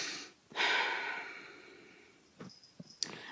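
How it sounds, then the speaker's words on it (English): A slow, deep breath is drawn in with a long airy rush, then released, followed by a few softer, shorter breath sounds close to the listener. "So take a deep breath in and out."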